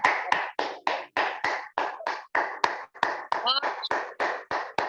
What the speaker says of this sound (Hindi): मैं चाहता हूं कि हम सब खुदावंद के जलाल के लिए जोरदार तालियां बजाएं